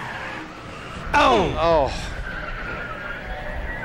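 A Gen 4 NASCAR stock car skids during a qualifying run, tires squealing in two sharp sweeping bursts over the engine roar while an announcer calls out in surprise.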